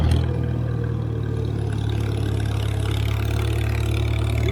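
IH McCormick Farmall 350 tractor engine labouring up a small hill, a loud, steady low throbbing drone with a constant mechanical rumble and the governor holding the engine under load.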